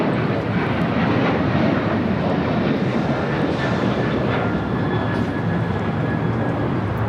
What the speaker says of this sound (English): 616 taking off to Denver, Colorado on a 737-900ER